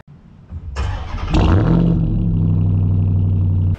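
A 2025 Toyota GR86 Premium sports car cranks and its engine catches, flaring briefly before settling into a steady, loud, close idle.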